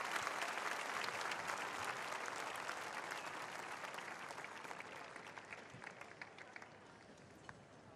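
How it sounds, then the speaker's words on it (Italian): A large crowd at a papal meeting with the Neocatechumenal Way applauds in honour of Carmen, dense sustained clapping that thins slightly toward the end. "Diamo un applauso a Carmen"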